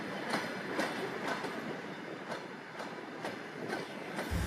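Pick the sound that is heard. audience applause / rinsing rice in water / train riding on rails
train riding on rails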